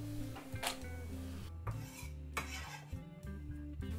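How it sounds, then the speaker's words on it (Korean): Sliced green onions are scraped into a wok, with metal utensils clinking and scraping against the pan in a few quick, quiet strokes over a faint steady background hum, no voices. "자, 이 썰은 대파는요 그냥 웍에다가 넣어주세요."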